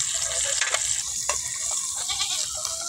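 A goat gives several short bleats in quick succession nearby, set against a steady hissing background resembling sizzling while cooking outdoors.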